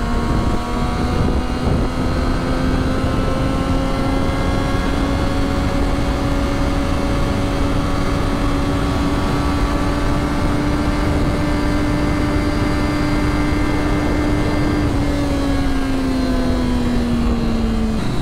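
A Triumph Daytona 675 motorcycle engine drones steadily while riding, loud and continuous with strong wind rush, pitch rising slowly then dropping near the end.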